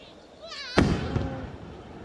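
A whistling rise ends in a sharp festival firework burst, followed by crackling and rumbling, with voices talking underneath, at the Fukuchi fireworks in Japan.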